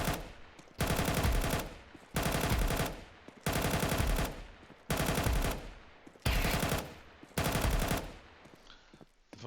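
Automatic FAMAS rifle sprayed in CS2, loud and close, in six sustained bursts of rapid fire, each around a second long, with brief silent gaps between them.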